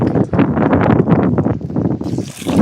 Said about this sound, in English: It's windy here today.